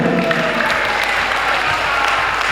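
Loud, continuous applause from a crowd at a declaration and inauguration ceremony for a clan association's officers, dense clapping that stays steady and close throughout.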